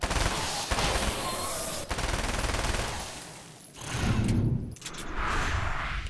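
Rifle gunfire in the video game Alan Wake's American Nightmare: dense, loud bursts of shots with a couple of brief gaps, alongside other game noise.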